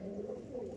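Pigeons kept as pets give a soft, low cooing call, a single faint murmuring phrase at close range.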